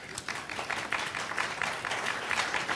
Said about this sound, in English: he definitely deserves your applause